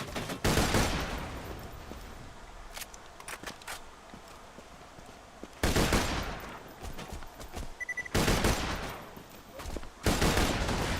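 Plasma caster gunfire in the video game Borderlands 2 comes in several loud rapid bursts separated by quieter gaps filled with clattering steps and small game effects.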